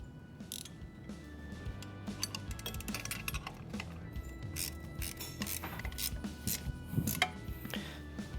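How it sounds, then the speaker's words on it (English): A 19mm ratcheting wrench and a 3/4 wrench tighten nuts and bolts while installing a third-function kit on a tractor: quiet, close metallic clicks and clinks in irregular bursts, with soft ratcheting and tool handling throughout. "we're going to use a 19mm ratcheting wrench and a 3/4 wrench to tighten"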